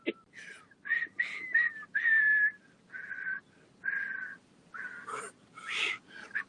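Whistlers perform a melodic tune in clear, sustained and trilled phrases with short pauses between them, fairly close and without any talking.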